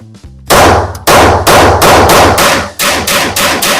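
A Springfield Prodigy pistol fires a rapid 15-round magazine dump at an outdoor range, with loud sharp reports in quick succession and barely any pause between shots.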